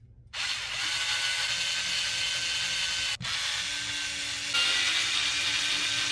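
A pinion gear being removed from an Arrma Talion 6S EXB V2 RC car with a power tool: a steady, close whirring and ratcheting mechanical drone that runs almost without a break, pausing briefly once and getting a little louder toward the end.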